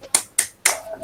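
A teacher leads a rhythmic 'tepuk semangat' clapping chant for a class: four sharp, evenly spaced claps, close and crisp, with a faint tone near the end.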